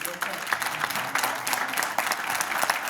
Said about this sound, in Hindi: तालियां मारनी चाहिए।